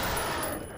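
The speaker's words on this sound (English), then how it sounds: "Minigun!" A minigun firing in F.E.A.R. Extraction Point, a brief, continuous roaring stream of rapid shots, loud and steady before tailing off slightly, with no talking.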